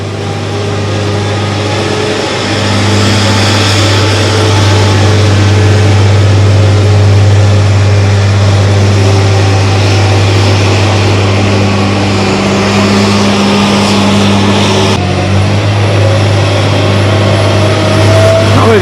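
A TF830 forwarder's diesel engine drones steadily and loud through a tight turn, a constant low hum with slight changes near the end, while someone talks over it.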